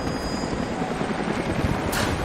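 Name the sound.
helicopter approaching in Rise of the Tomb Raider video game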